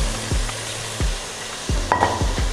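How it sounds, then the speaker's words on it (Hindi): A medium chopped onion goes into frying chicken keema, giving a steady sizzle under a low hum, with several spaced taps of a spoon against the pan. "अब हम इसमें डाल देंगे एक प्याज मीडियम साइज़ का चॉप किया हुआ"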